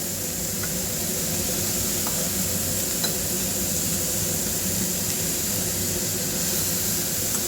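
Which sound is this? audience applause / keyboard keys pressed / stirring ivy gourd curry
stirring ivy gourd curry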